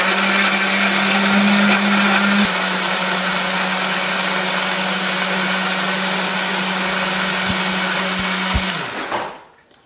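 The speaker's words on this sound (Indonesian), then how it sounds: "Kalau sudah, ini mau kita haluskan." Electric blender grinding red chili, shallots, ginger and a little water for a breakfast dish, a loud, steady, close whir that holds for about nine seconds before the motor cuts off and spins down.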